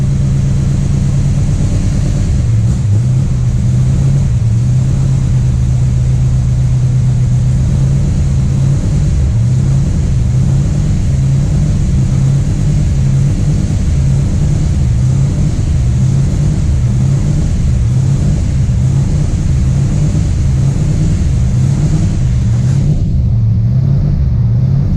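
A newly built Ford 351 Cleveland V8 running on its first start with a sticky throttle, giving a loud, continuous, pulsing engine rumble close to the microphone that cuts off abruptly at the end.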